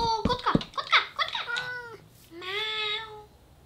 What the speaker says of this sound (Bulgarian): О, котка!